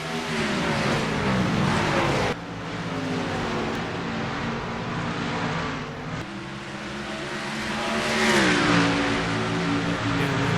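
Stock cars racing at Richmond in a sim-racing game after a restart, engines droning loud and close with pitch rising and falling through gear changes and laps, and abrupt shifts as the view cuts between cars.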